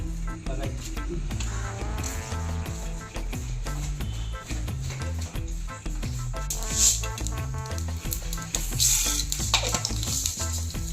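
Fish fries in a pan after mustard seeds are spluttered, giving a continuous close sizzle with scattered clinks and stirring, over a steady tonal background.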